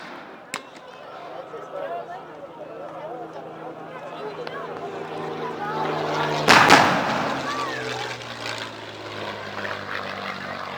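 A propeller aircraft drones overhead during a reenacted Second World War air attack, a sustained engine hum building in loudness with a sharp bang near the start and another mid-pass, while voices talk underneath.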